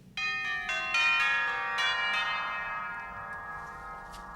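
Church bells ring out in a clear cascade of rich, sustained tones, several strikes overlapping early and then a long, slowly fading resonance, with no voices.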